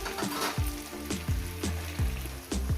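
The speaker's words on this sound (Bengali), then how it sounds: "এতে বন্ধুরা কত সুন্দর করে ভেজে নিচ্ছি আমি সবজিটাকে" Vegetables with chili fry in a pan, a close sizzle broken by regular spoon taps against the pan about every half second, with no talking.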